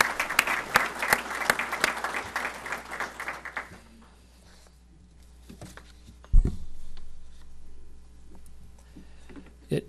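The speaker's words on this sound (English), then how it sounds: "If we could give them a round of applause," An audience at a Chamber of Commerce luncheon applauds with dense, loud clapping for about four seconds, which then fades into quiet room tone with scattered faint taps and a brief thump.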